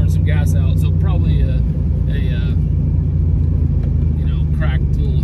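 A 1979 Volkswagen Beetle convertible's engine rumbles steadily while it drives, with road noise throughout and a voice talking over it.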